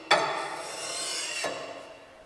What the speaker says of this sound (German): lege ich den Schleifstein flach drunter und ziehe ihn an dem Rasenmähermesser vorbei